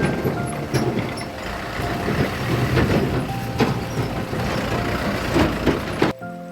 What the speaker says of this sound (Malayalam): വലിയ വാഹനങ്ങൾ അതുവഴി വരുന്നുണ്ടായിരുന്നു